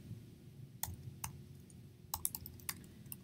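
Someone types on a computer keyboard in a quiet room, a few sparse, crisp key clicks followed by a quicker cluster of taps, close and faint.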